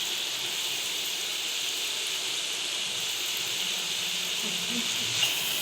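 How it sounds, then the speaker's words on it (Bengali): Peanuts frying in a pan give a soft, steady hiss and faint crackle, continuous and close, with a small clatter near the end. "তো এইদিকে আমাদের বাদামটি ভাজা হচ্ছে।"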